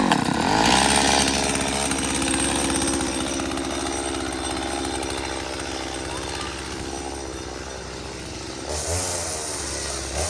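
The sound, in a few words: chainsaw running after being started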